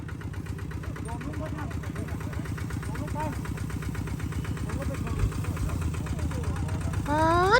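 A tractor engine chugs steadily nearby during rice threshing, with a rhythmic knocking idle, rising slightly in revs near the end, voices faintly under it.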